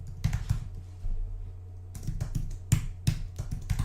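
Keys tapped on a computer keyboard while entering form code, soft irregular clicks in short bursts with pauses between, close and fairly quiet.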